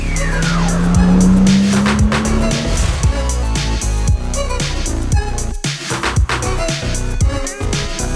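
A Sportec SPR1 R sports car is driven hard on a race track, its engine loud and close with rising revs and gear changes. Tires squeal and skid through the corners.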